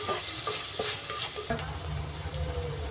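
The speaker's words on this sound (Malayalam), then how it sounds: "ഇതിനെ എല്ലാം കൂടി നല്ലതുപോലെ ഒന്ന് നമുക്ക് വഴറ്റിയെടുക്കാം" Green chilli, ginger and onion sautéing in a pan for a Kerala-style crab roast, a steady close sizzle and fry with scraping stirs running throughout, louder and denser in the second half, no voices.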